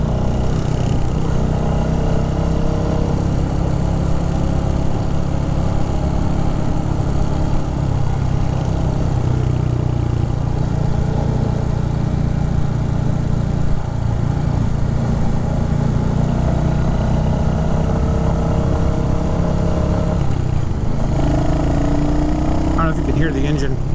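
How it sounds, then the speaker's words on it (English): A 2023 Royal Enfield Hunter 350 single-cylinder motorcycle engine runs steadily under riding, a loud, close, continuous low thumping drone with slight rises and dips in pitch and some wind noise throughout. "Hear the engine."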